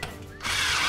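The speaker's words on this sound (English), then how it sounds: "our track can then be fixed to the ceiling using the Cineat high thread screws" A power drill drives a high thread screw into ceiling track, a short whir that jumps into a loud, steady grinding spin halfway through.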